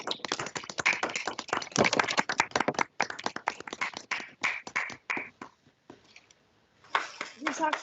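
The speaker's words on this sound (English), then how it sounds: "unmute themselves so we can give you your deserved round of applause" Court justices clap over a video call to welcome newly admitted lawyers, producing a choppy, compressed patter of claps in uneven bursts with a brief near-silent gap before the clapping resumes.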